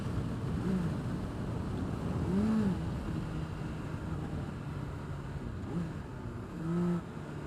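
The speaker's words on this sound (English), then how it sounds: "Get some downshifting in." A Honda CBR600RR motorcycle downshifts while riding, its engine rising in short revving blips over a steady wind-buffeted drone, fairly close and without talk.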